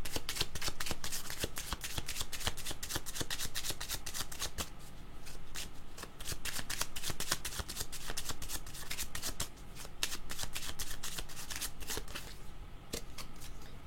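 A deck of tarot cards being shuffled by hand, a steady run of rapid riffling and flicking clicks that carries on close and continuously without talk.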